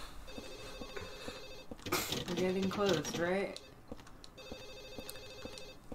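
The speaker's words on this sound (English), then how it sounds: "Does this ringing sound any closer, or does it sound further away?" An old telephone bell rings repeatedly inside the survival-horror game Silent Hill 4: The Room, sounding as a steady electronic trill before and after someone speaks over it.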